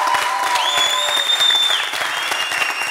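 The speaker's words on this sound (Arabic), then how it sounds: "تصفقوا عليه تصفيق قويه برشا" Studio audience applauding loudly and steadily on a Tunisian TV show set, dense clapping throughout with a faint whistle-like tone above it.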